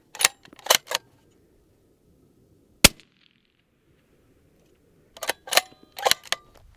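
Sharp gunshots from semi-auto and bolt-action rifles during trigger-control practice ring out as a few separate loud cracks, with quick clicks and handling noises between them, close and with no talk.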